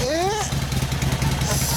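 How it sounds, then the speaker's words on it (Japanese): A 2009 Harley-Davidson Sportster XL1200L motorcycle engine cranks and catches, then idles with a steady low rumble, close by and loud; a brief voice is heard at the start. "エンジンかけてください"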